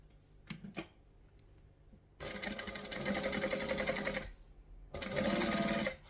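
Sewing machine stitching fabric in two fast, loud mechanical bursts with a short pause between them, preceded by a few quiet clicks as the needle is set.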